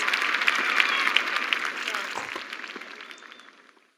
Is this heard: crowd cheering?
yes